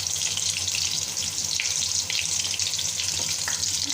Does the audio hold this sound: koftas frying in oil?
yes